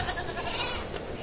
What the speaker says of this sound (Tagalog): Ayun yung kambing ko kasi umaambon na yung mga kambing